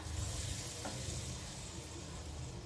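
Sambar with a tadka spice tempering stirred in a pot, a faint, steady sizzle and soft low rumble with one brief scrape, quiet and close, no talking.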